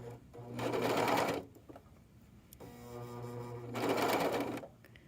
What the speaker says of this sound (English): as this back part of my fabric emerges from behind the serger after being serged